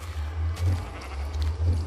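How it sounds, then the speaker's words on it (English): Faint sheep bleats from the Minecraft Aether mod game, sounding a couple of times over a steady low background hum, with no talking. "that green sheep just doesn't want to stay still, does he?"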